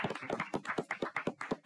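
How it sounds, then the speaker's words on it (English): A small audience claps for a training institute's twentieth anniversary, giving about a dozen sharp, evenly spaced claps that sound close and fairly sparse, like a handful of people clapping in a room. "So give us a round of applause on that."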